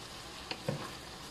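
Buttered shrimp and chopped corn frying in a pan are stirred, a faint steady sizzle with a couple of brief utensil scrapes, no talk.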